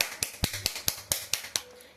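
A voice-free string of sharp, snappy taps mimics a fake clap, about nine quick hits in an uneven rhythm, close and fairly quiet.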